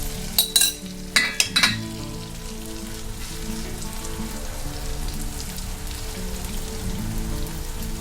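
Cha-om omelette batter fries in a pan with a steady, gentle sizzle, opened by a few sharp clatters of a utensil, then a continuous bubbling hiss up close.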